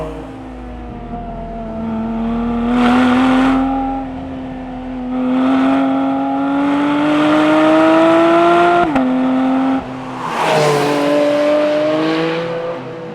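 A Porsche GT4 RS climbs through the gears on a winding mountain road, its engine revving up in long rising pulls, dropping briefly at each shift, loud and close with no talk.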